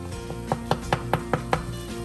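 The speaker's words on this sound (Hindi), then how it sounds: "ये मैं टमाटरों को मैश कर रही हूँ।" Tomatoes are mashed in a pan, giving about six soft, evenly spaced thuds in quick rhythm over a steady low hum, close and moderately loud.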